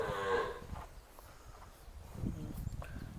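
A six-month-old calf moos briefly at the start, fairly close but faint, followed by quiet shuffling and rustling on a farm.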